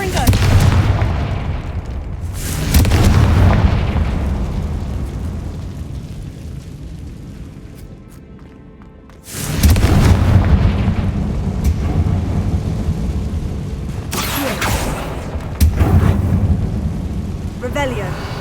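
Confringo blasting spells explode in Hogwarts Legacy as two heavy booming blasts, each with a deep rumbling tail that slowly fades. A voice speaks amid the game sound.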